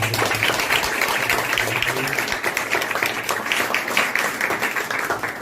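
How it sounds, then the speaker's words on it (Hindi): A church congregation breaks into loud, sustained applause during a service, a thick wall of clapping hands that carries on for several seconds, with faint voices mixed into the crowd. "अगर आप लोगों को बरकत मिली है तो जोरदार तालियां"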